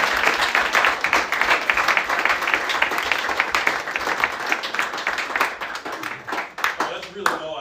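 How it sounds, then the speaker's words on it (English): Applause from an audience at an end-of-semester gathering, a dense wash of many hands clapping steadily for several seconds before thinning out and tapering near the end. "let's give a quick round of applause for Mike"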